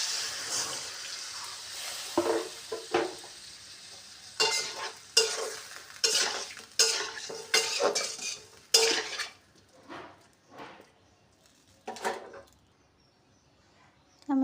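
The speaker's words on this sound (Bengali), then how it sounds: "এখন আমি দিয়ে দেবো এর মধ্যে জল।" Water poured into a pan of pabda fish curry with spices, sharp hissing sizzles and scraping stirs in bursts, loud and close, then tapering to quieter clinks.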